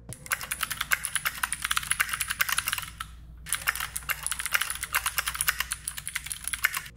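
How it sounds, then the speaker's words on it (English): Rapid, clicky keystrokes on a mechanical keyboard, steady bursts of typing with a brief pause midway, close and crisp with no voices. "Let's just hear the keyboard ASMR."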